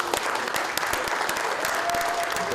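A room full of people applauds steadily for an honoree at a local community awards gathering, dense clapping that is sustained and fairly close.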